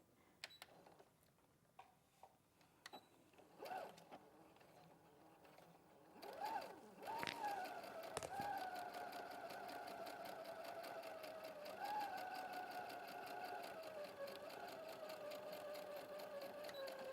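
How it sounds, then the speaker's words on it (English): A sewing machine stitches a garment with a steady, rhythmic mechanical whir that runs continuously for about ten seconds after a few quiet handling taps and clicks, fairly close and moderately loud. "we're just going to sew the second into place"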